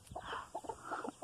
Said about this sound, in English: Can you hear them? Hi, babies! Oh, little chicky chick chicks!